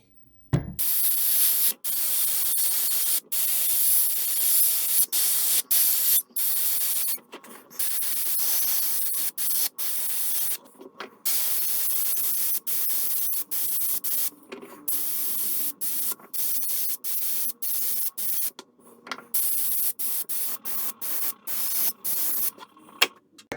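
Airbrush spraying Wicked Detail Moss Green paint onto a wooden turtle fishing lure, a close hissing spray in repeated bursts of several seconds separated by brief pauses, with no talking.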